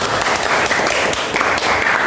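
A classroom audience gives a short burst of steady applause for a student, Andini, dense and fairly loud throughout.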